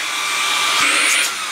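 A HOTO compressed air capsule with an attachment fitted runs with a steady, loud airy hiss close by, swelling slightly midway before easing off, with no talk.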